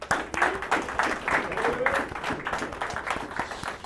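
A group of music students applauds itself: scattered, uneven clapping with distinct individual claps, moderately loud and somewhat sparse, with a voice heard briefly amid it.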